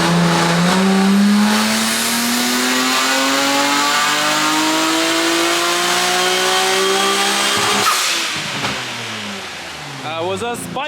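Retuned Nissan R34 GT-R engine pulling hard on an acceleration run, a loud close rising howl that climbs through the gears with a brief drop at each shift, then eases off near the end.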